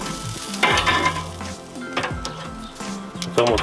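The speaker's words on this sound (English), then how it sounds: "these directly over the fire are definitely cooking" Chicken wings sizzle directly over the fire on a Char-griller Duel Fuel Pro grill, a steady crackling hiss with louder bursts of spitting fat, close and alone.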